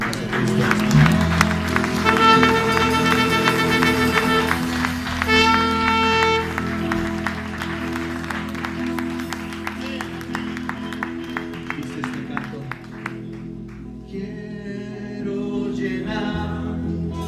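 Church congregation clapping during worship at a fifth-anniversary service, sustained applause blended with music throughout, steady and fairly loud with a few sharper claps standing out.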